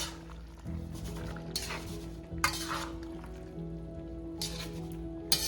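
Pinakbet mixed vegetables folded and stirred in a pot, giving soft wet squishing and scraping with a few light clinks of utensil on the pot, in bursts separated by quieter simmering background.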